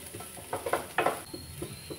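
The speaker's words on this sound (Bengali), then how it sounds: "হালকা করে একটু নেড়ে নেব।" Vegetable vermicelli being gently stirred in a pan, a handful of soft scraping strokes and light clatters over a low background hiss, close by.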